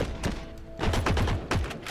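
Video game gunfire crackles in rapid, overlapping bursts of shots and thuds. It is loud and near and continues through the whole stretch.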